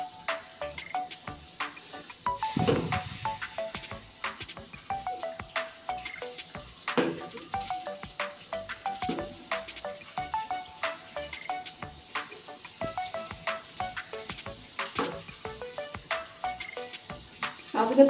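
Banana pitha frying in hot oil sizzles steadily up close, with frequent sharp crackles and pops scattered through a long, unbroken stretch and no talking.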